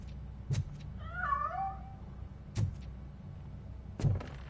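Cat meows in the video game Robocop Rogue City, a short wavering call heard close and alone between three sharp thuds.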